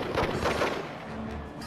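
Gunfire from the PS2 game Indiana Jones and the Staff of Kings: a few quick sharp shots in the first half, followed by a quieter stretch with a faint sustained tone.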